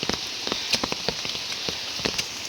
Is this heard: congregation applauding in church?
no